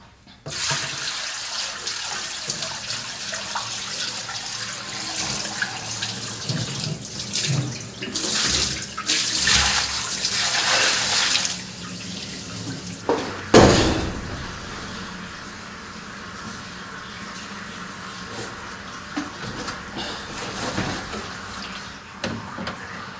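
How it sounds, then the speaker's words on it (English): Coolant being poured back into the tank of a Syil X7 CNC milling machine in a workshop, a steady close splashing rush of liquid that swells in the middle and ends with a sharp clunk, then a quieter trickle. "time to put the coolant back in, and this coolant's not too bad"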